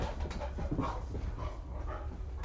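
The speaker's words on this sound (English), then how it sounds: "don't know if you can hear the dogs out in the backyard" Dogs out in a backyard bark and whimper at a distance, faint and muffled under steady background noise, with short yips scattered across the moment.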